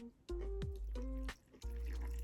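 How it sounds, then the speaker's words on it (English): Brine poured into a jar of homemade garden pickles, with several separate splashing pours of liquid close by and brief gaps between them. "Okay, let's bring on that brine."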